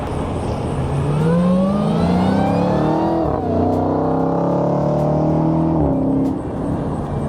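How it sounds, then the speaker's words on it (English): A 2021 Dodge Challenger Hellcat Super Stock revs up hard with a rising supercharger whine, shifts, and keeps pulling with a rough roar close by. "I sure do like the way Dodge makes that supercharger loud."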